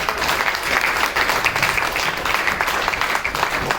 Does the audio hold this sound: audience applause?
yes